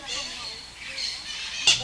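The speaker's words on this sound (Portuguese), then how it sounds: "Aqui assim é onde tem os periquitos, pelo visto, que estão voando que nem doido para um lado e para outro." Parakeets in an aviary at Parque das Aves in Foz do Iguaçu, a bird park, give high squawks and chirps throughout, with one louder, closer squawk near the end.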